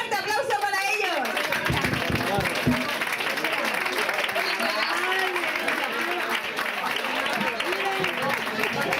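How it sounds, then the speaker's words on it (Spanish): An audience at a Valencia event applauds a band, with dense continuous clapping mixed with cheering and crowd chatter, and voices heard through it. "Un fuerte aplauso para ellos."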